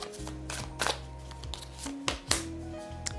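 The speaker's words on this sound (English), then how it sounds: "trying my best to shuffle." Tarot cards being shuffled by hand, with repeated riffling and flicking bursts over a sustained tonal background, close and fairly loud.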